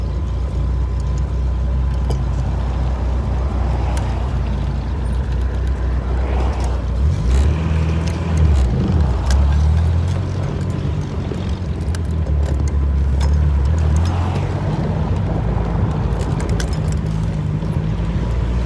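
A 1936 Jaguar motors along at a steady pace, its low engine rumble and road noise continuous throughout, with some wind buffeting against the microphone and a few brief surges in the drone.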